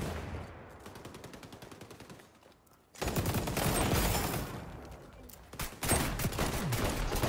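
Gunfire in the video game XDefiant, with rapid automatic bursts ringing out near and loud, a lighter stretch of shots followed by heavier, denser volleys as a voice talks underneath.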